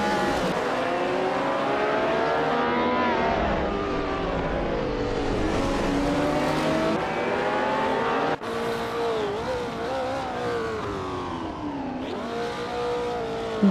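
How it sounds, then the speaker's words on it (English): A 1966 Porsche 906 race car in a racing game: a steady, loud engine drone that climbs and falls in pitch through shifts, with a brief dip near the middle, and no talk. "Bot Ebony Shadow is driving in 1966 Porsche 906, known for its balanced handling and sleek design"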